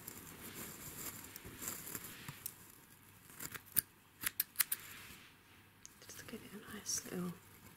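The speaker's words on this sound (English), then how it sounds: "I'm going to start off by using the black scissors, and then I'll go on to the pink ones" Soft whispering gives way to a few crisp scissor snips, close and quiet, cutting hair in short bursts.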